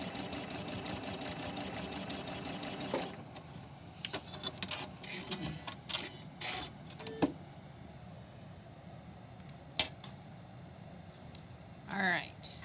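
A sewing machine stitches quilt pieces in short runs of rapid mechanical whirring, stopping and starting, close by, with someone talking quietly between runs and small handling clicks.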